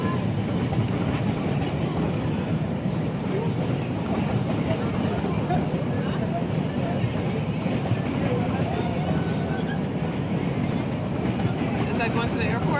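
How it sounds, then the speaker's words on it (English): A GO Transit commuter train rolling past, a steady broadband rumble of wheels and carriages that holds at even loudness throughout, close by. "Go train 326."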